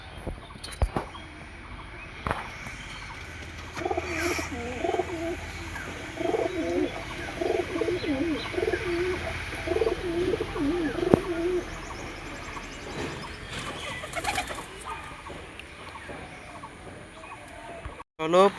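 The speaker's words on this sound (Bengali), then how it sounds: "আর এই একটা কালো পায়রাটা রয়েছে।" Pigeons, including a black one, coo repeatedly at close range in a steady series of low, rolling calls, with a person talking intermittently alongside.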